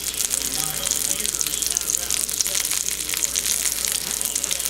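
Ranch parmesan skinless boneless chicken breast browns in a hot pan, giving a steady, close sizzle with crackling pops, while a voice talks faintly underneath.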